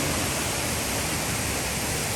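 Kroeng Krawia waterfall in Sangkhla Buri roars as a loud, continuous broadband rush of falling water, close and unbroken.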